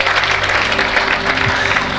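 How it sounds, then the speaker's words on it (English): Church congregation clapping together in a worship service, a steady dense wash of many hands sustained throughout with a faint low musical hum underneath. "Clap your hand if you're there at all."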